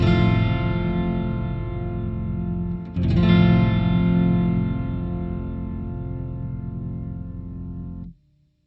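Electric guitar chord played through a Boss OC-5 octave pedal in poly mode, loud and sustained with a thick doubled low end, briefly re-struck midway, then ringing about eight seconds before cutting off abruptly.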